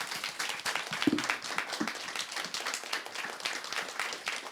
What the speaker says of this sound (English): Please, big claps,